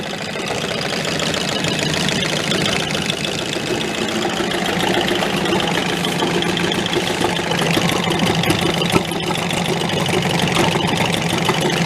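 Small outboard engine on a rescued 7-foot boat idling with a steady low throbbing knock, its exhaust bubbling and splashing through the water, loud and continuous with no talk.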